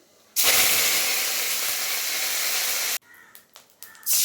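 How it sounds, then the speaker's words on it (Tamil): Curry leaves dropped into hot oil with mustard seeds give a sudden loud sizzle, hissing strongly for a few seconds, then settling into softer crackling and spitting; no voices. "அடுத்து கறிவேப்பிலை தாளிக்கணும்."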